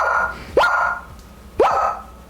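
A person imitates a dog, giving two sharp, loud barks about a second apart, each a quick rising yelp with a short tail, heard alone without other talk.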